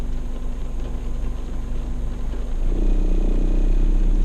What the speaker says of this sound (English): This car has a lot of interior noise.